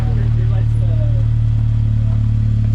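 Four-cylinder engine of a 2021 Jeep Gladiator Mojave, a loud, steady low drone heard from inside the cabin, with brief voices over it.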